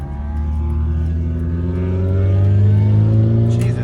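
Mazda 3 car engine revving ahead on the road, a loud steady drone with pitch slowly rising as it accelerates, heard from a following car alongside road and wind noise.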